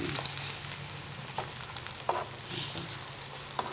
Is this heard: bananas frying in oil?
yes